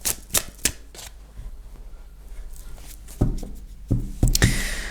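Tarot cards are handled close by, giving a few sharp flicks and slaps near the start and then denser shuffling rustles toward the end, with quiet gaps between them and no speech.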